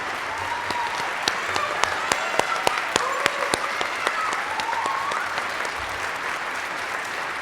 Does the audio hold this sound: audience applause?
yes